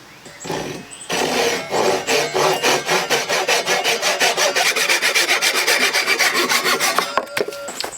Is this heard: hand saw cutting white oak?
yes